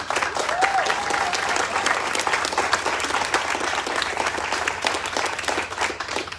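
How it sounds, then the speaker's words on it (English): Audience applause at a YWCA Central Massachusetts building dedication celebrating a $24 million renovation, sustained hearty clapping from a sizable crowd, loud and continuous for several seconds with a brief whoop near the start. "it's your time, not mine, you can applaud"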